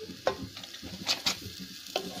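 Two tablespoons of butter melting in a pan as the base for a white sauce, giving a soft sizzle with a few light scraping stirs and taps, close and fairly quiet.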